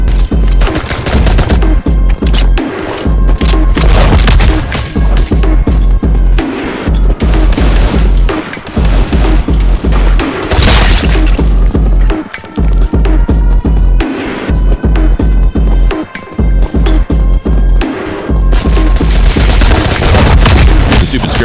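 Rapid, loud gunfire from the Roblox game Ink Games comes in dense, overlapping bursts and single shots, with a few short pauses, and sounds like automatic weapons.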